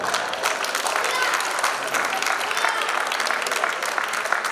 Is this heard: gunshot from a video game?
no